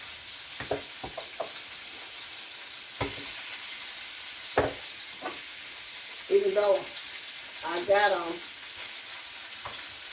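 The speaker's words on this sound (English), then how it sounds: "I'm gonna use my wooden spoon because I don't want this to mess up my skillet with these metal tongs." Chicken skin frying and sizzling in a skillet while a wooden spoon stirs and scrapes it, with steady sizzle and brief crackling bursts under occasional nearby talk.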